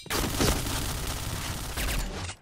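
A sustained burst of gunfire from the online shooter game Point Blank rattles loud and dense for about two seconds, then cuts off, with no talking over it.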